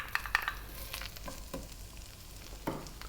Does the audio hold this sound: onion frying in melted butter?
yes